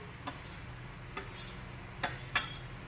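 Chopped tomatoes, onion and capsicum are stirred in a pan, a few light spoon clinks and scrapes over a quiet background, spaced irregularly.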